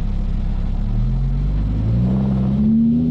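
A Lamborghini sports car engine revs up, its deep rumble rising steadily in pitch over a few seconds, loud and close with no talking.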